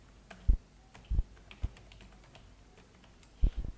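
Keystrokes on a computer keyboard, a handful of scattered taps spaced irregularly with a short cluster near the end, close and fairly quiet, no speech.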